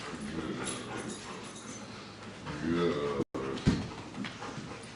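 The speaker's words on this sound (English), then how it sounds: "Happy dog." A happy dog whimpers and pants up close with a few short yips, while a person speaks briefly over the sounds.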